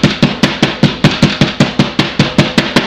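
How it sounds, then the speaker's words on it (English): Pieces of pork tenderloin being pounded flat on a board, about a dozen sharp, loud, close thumps in a quick, even rhythm with nothing else around them. "Just want to pat them out some and get some nice pieces like that"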